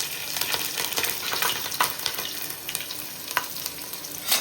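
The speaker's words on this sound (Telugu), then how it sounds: "2 పచ్చిమిర్చి వేస్తున్నా." Two green chillies drop into hot oil already holding a bay leaf for bagara rice, giving a steady close crackling sizzle with scattered sharp pops throughout.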